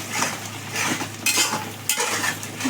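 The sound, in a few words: stirring tomato puree in a cooking pan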